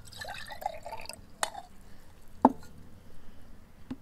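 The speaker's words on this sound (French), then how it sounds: "100 ml d'eau que nous versons dans une boîte" Some 100 ml of water poured into a box, a short, quiet trickle lasting about a second, followed by a few sharp drips and clinks in near silence.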